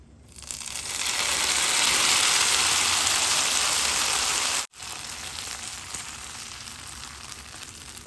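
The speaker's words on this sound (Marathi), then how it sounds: "यात आपण आता ही फोडणी ओतणार आहोत" A loud burst of sizzling as hot tempering oil with curry leaves is poured into chutney, hissing strongly for a few seconds, cutting out briefly, then settling into a quieter crackle.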